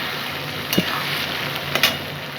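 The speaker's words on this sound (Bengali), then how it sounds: "এবার আদা রসুন দিয়ে একটু ভাজবো।" Onion frying with ginger garlic paste for a goat meat curry, a close steady sizzle broken by a couple of clinking stirs against the pan, with no voices.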